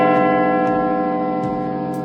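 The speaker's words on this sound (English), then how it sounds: "When you release the cable, it strikes the bell." A hammer strikes the huge Big Ben bell after its cable is released, leaving a loud, sustained ringing hum with layered steady overtones that hangs throughout, broken by a few faint ticking clicks.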